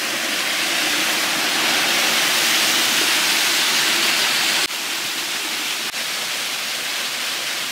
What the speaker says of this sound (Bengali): একটি মিসিং ওয়াটারফল আছে। এটাকে মিসিং বলছে এই কারণেই যে কোথা থেকে ওয়াটার আসছে সেটা বুঝতে পারা যাচ্ছে না